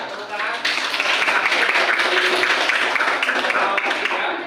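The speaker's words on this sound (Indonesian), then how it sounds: "Ya, tepuk tangan" A class of students claps together in a school lesson, with a dense burst of applause starting after a brief pause and continuing steadily at close range.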